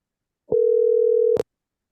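A single steady telephone tone sounds for just under a second while an automated IVR number is being called, starting and ending with a soft click, then silence.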